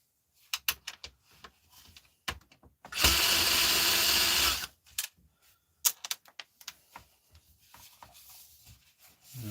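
A power tool drives a screw in one loud, steady whir of about two seconds, surrounded by scattered clicks, knocks and handling taps from close by, with no voices.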